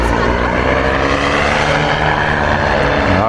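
Loud droning engine of a light propeller aircraft revving up, steady and close, with people talking over it in Polish.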